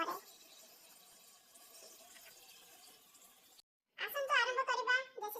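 Chicken is washed in water, with soft sloshing and trickling under a faint background for a few seconds; after a short silence a person speaks.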